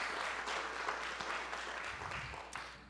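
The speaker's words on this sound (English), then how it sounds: "So everybody give them a round of applause" A community gathering audience applauds for a landscaping crew, with steady, moderately distant clapping throughout.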